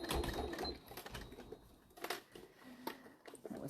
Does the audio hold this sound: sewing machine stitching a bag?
yes